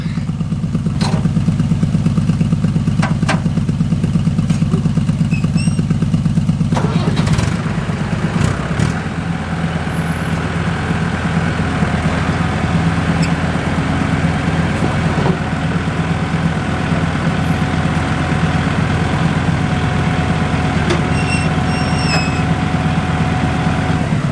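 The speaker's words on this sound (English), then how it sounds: "dig the bucket down into the into the ground, lift up the front a little bit, and then you can rotate the tires" A tractor backhoe engine idles loudly in a steady diesel chug while its bucket digs into the ground, with clanks and a rattling shift partway through before the engine settles back to a steady run.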